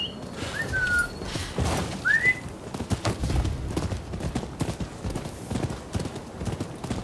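Steady clip-clop of horse hooves trotting in the video game Rise of the Ronin, with a couple of short bird-like whistles near the start and a faint voice under the hoofbeats.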